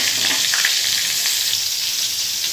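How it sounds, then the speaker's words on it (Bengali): Pointed gourd sizzles steadily in hot oil close by, a dense crackling hiss that continues without pause and with no talking. "এই যে পটল ভাজা প্রায় হয়ে এসছে"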